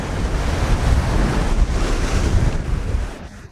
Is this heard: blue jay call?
no